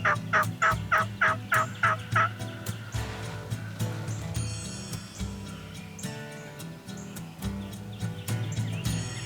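A wild turkey on a spring hunt gobbles in a quick series of rattling bursts, fairly near and loud, then fades into quieter woodland sounds and scattered rustling.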